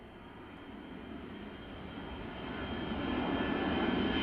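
An aircraft takes off at an airfield, its engine roar a steady broadband rumble that swells gradually louder as it builds power and climbs, heard from a moderate distance without talk.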